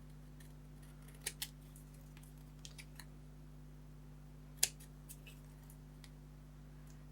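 Scissors snipping paper for a Valentine's craft, a few faint, quick separate clicks and snips spaced across a quiet room with a steady low hum beneath.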